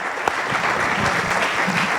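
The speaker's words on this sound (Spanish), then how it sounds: "Aplauso enorme para Beatriz Gutiérrez Müller." An audience applauds at a book presentation in Azcapotzalco, a dense, steady wash of close clapping from a crowd that fills the short moment without pause.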